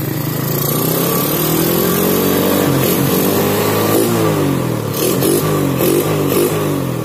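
Yamaha Jupiter Z motorcycle engine revving loudly nearby, with repeated throttle blips rising and falling over a steady rough idle and some rattling clatter.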